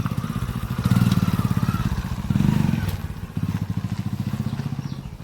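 A motorcycle on a village road chugs nearby with a fast, even engine pulse that swells twice and then carries on steadily as the bike rides off.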